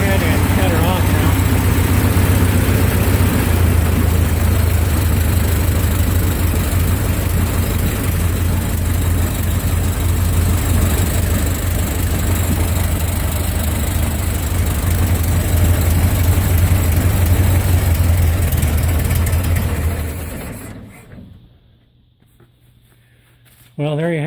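A cold-running 1927 Ford Model T engine, clamped on jack stands, idles with a loud, steady, close-up chug for about twenty seconds before being cut off, dropping to near silence.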